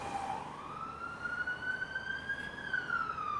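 An emergency vehicle siren on Main Street in Marion, North Carolina wails steadily, its pitch rising slowly and holding high, heard from some distance over a constant hiss of street noise.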